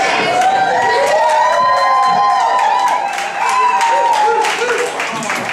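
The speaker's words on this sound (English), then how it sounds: "Since you guys are already applauding," Guests at a 50th birthday party cheer loudly, with high whoops and shouts rising over a close, continuous crowd roar and scattered clapping throughout.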